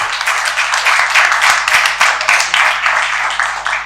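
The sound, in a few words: audience applause at conference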